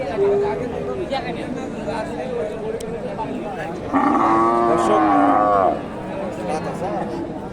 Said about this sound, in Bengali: ফ্রিজিয়ান জাতের খামার উপযোগী সার